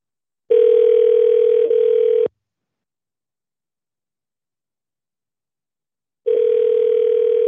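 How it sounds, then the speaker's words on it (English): A steady electronic telephone ring tone sounds for about two seconds, followed by a long silence, then starts again; loud and clear with no voices. "You guys hear the ringing?"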